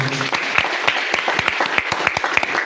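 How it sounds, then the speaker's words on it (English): Applause from an audience honoring award winners at a live event, a short burst of clapping with distinct individual claps standing out over a steady patter. "Another round of applause for them."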